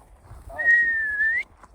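One sustained human whistle, a steady tone rising slightly at the end, fairly close and alone.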